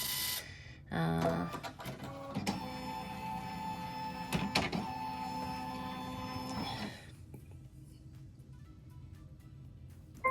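A home embroidery machine stitches a Kimberbell Blossom pin cushion design, giving a steady mechanical whir with rapid needle clatter for several seconds after a short startup, then stopping.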